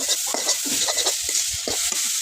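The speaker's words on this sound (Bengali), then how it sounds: "এই শাকগুলো যত ঝরঝরা করে ভাজতে পারবেন অত মজা" Taro leaves (kochu shak) frying in a pan with onion and garlic, a steady close sizzle with repeated scraping stirs of the spatula, alone without talk.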